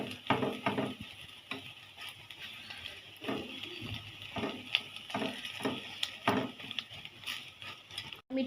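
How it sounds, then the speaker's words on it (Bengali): Several eggs fry in a pan with a steady, close sizzle, broken by repeated scraping and clacking as a spatula turns them; no one speaks. "এই তো ডিম ভাজিটা হয়ে গেছে"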